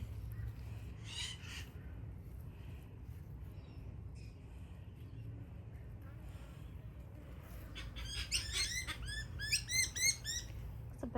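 Birds call in a winter garden, a crow cawing early on and then a burst of quick, bright chirps and tweets near the end, over a low outdoor rumble.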